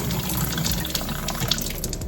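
Water runs steadily from a tap into a small hand pump being filled for rinsing out a blown pysanky egg, a close, continuous splashing gush with no one talking.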